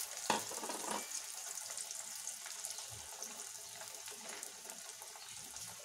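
Spice paste fries in hot oil in a kadai over high heat, a soft, steady hiss with a sharp clatter near the start, otherwise quiet and even with no one talking.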